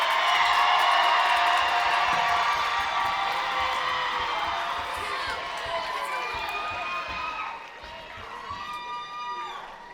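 A crowd at a black belt martial arts showcase cheers and whoops for Red Dragon Glendora, loud and sustained at first, then slowly fading as scattered shouts and excited voices carry on.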